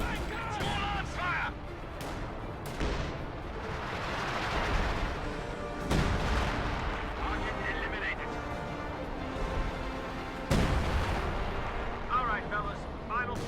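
Artillery counter-barrage fire in a war strategy video game, with repeated heavy booming blasts at irregular intervals over continuous battle noise and background game sounds.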